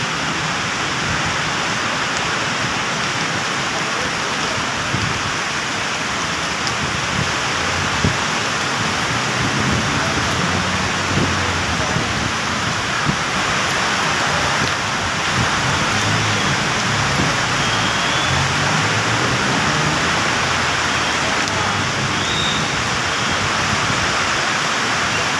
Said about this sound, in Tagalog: Kasi na-trap kami sa ulan.